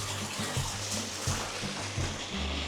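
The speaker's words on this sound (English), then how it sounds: "That is a waterfall." A waterfall in Glencoe, Scotland rushes steadily in a broad continuous roar, close by and constant, with low thuds breaking through now and then.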